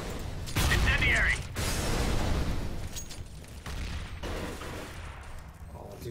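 An incendiary grenade erupts and burns in a video game shooter, a loud whooshing blast followed by sustained roaring crackle that fades over several seconds, with a player shouting briefly.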